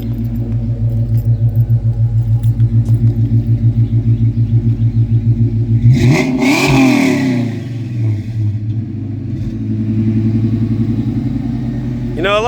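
Vortech supercharged SN95 Mustang idling with a loud, lumpy, pulsing rumble, then one sharp wide-open rev that swells and falls back to a choppy idle, close and very loud, with people talking over it.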